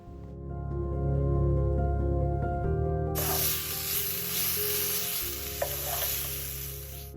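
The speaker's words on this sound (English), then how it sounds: "Allow the onions to cook till they're nice and soft." Onions soften in a pan for a one-pot vegetable spaghetti, with a low hum over the first half giving way to a bright, steady frying hiss and a single faint clink near the end.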